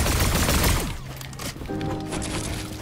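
Rapid video game gunfire bursts loudly at the start, then gives way to quieter crashing and game effects with a tonal chime near the end.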